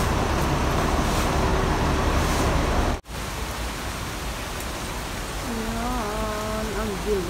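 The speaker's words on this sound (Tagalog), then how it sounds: "Pero umuulan na naman." A heavy downpour near a bridge pours as a steady dense hiss of rain with traffic rumble underneath, briefly cut by a short break, and a voice speaks near the end.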